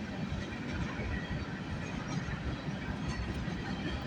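Freight train on a busy mixed-railroad main line on a rainy Monday morning, rolling past in a steady, continuous low rumble and clatter of cars, loud and close throughout with no talk.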